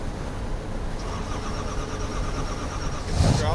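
A car engine cranks and catches after the ignition is switched on, with a steady mechanical rumble that swells louder near the end as it fires.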